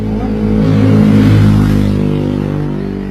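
Motorcycle exhaust revving loudly and close, a steady low engine drone that swells in the first second and a half, then slowly eases off with no talk over it.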